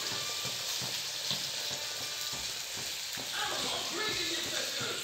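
Boiled potatoes are added to a hot frying pan for aloo poriyal and stirred, a steady close sizzle broken by rhythmic scrapes and knocks of the spoon, with someone talking over it.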